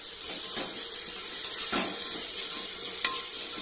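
A spoon scrapes and stirs rajma masala with turmeric in a pan, producing soft intermittent clinks and a few sharper taps over a faint background sizzle, close and fairly quiet.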